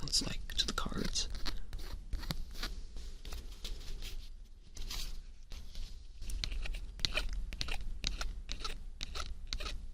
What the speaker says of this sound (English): This is what the holographic part sounds like to the cards.